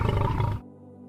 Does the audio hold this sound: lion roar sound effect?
yes